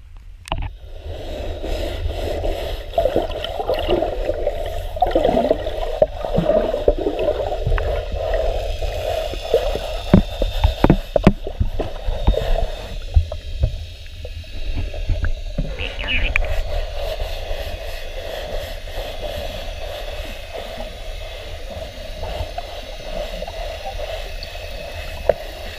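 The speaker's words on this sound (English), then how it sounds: "So let's get to scraping this bottom, this boat bottom." Marine growth being scraped off a boat's bottom underwater while at anchor, heard as a muffled, gurgling underwater rumble with irregular scraping clicks and knocks, bubbles and splashes over a steady low drone, continuous and close.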